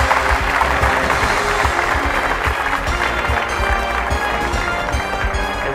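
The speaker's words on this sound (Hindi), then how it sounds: "इनके भावना के सम्मान में जोरदार तालियां।" Studio audience applause on a Bhojpuri TV quiz show, a dense, steady wash of clapping that holds at full level for the whole stretch with no talk over it.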